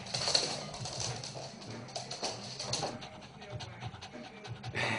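A dog pants indoors in a flat, quick rhythmic breaths close to the listener, with faint sounds in the room behind.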